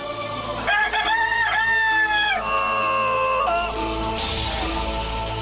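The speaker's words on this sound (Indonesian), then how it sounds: "Suruh ayam lu berhenti memperdengarkan suara yang fasik." A rooster crows loudly and nearby, one long cock-a-doodle-doo call with rising and falling tones, ending in some softer clucking.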